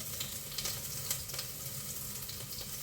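Onion and green chillies sizzling in hot oil in a pan for chicken biryani, a steady, dense crackle with a few sharper pops, close and alone with no talk.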